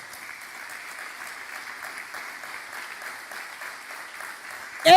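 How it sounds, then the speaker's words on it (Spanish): Church congregation applauding during a sermon, a steady, moderately distant wash of clapping that holds evenly before a sudden loud bump at the very end. "Dale un fuerte aplauso al Señor"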